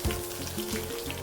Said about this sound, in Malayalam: കടുക് പൊട്ടി വരുന്ന സമയത്ത് ഇതിലേക്ക് 5 ചെറിയുള്ളി ചെറുതായി നുറുക്കി ചേർത്ത് കൊടുക്കാം